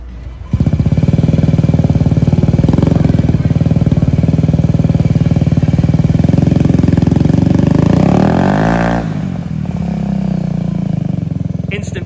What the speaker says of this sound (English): We'll get George to start it up once it's ready.